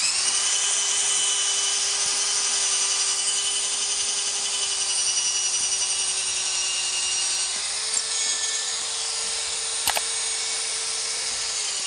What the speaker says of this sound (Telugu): సో ఇప్పుడు మనం కొంచెం ప్రెజర్ అప్లై చేసి అయితే డ్రిల్ చేద్దాం.